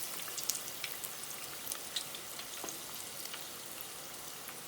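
Food fries in oil heated to 375 degrees inside an uncovered Paderno auto-drain deep fryer, giving a continuous close sizzle with frequent sharp crackles and pops and no talking.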